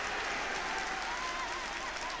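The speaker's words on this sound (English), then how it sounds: "Gelson quite rightly getting a round of applause for taming McDougall in that particular instance" A stadium crowd at a 1972 Brentford v Bournemouth football match claps for a fair tackle, a steady, dense wash of applause that holds evenly for the whole couple of seconds.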